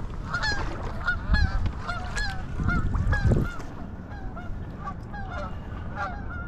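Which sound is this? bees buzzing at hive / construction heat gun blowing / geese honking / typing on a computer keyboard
geese honking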